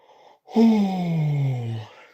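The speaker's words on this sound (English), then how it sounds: "that's why I keep yawning" A single close, clear human yawn: a voiced breath that swells and then slides steadily downward in pitch for about a second and a half, with no other sound around it.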